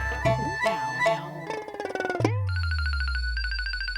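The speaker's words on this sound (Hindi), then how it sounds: "मैं गुनगुन को फोन करती हूँ" A short burst of electronic tones and jingle gives way to a repeating phone ring, pulsing in regular bursts, fairly close and clear.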